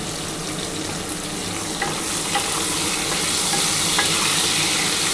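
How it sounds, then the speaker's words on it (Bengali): Potatoes and cauliflower fry with salt and turmeric in hot oil, a loud, dense, unbroken sizzle with a few light stirring taps. "এখন অল্প একটু নুন হলুদ দিয়ে ভেজে নিচ্ছি।"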